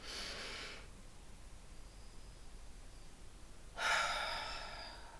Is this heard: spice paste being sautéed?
no